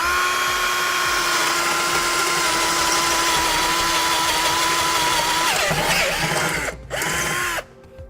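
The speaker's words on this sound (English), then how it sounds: "we're going to need to drill our front hole on the passenger side" A power drill bores a hole through the front passenger-side body of a 2017 Ford Focus while a tow base plate is fitted. A loud, steady, whining drone runs for several seconds, then stutters in brief bursts and stops.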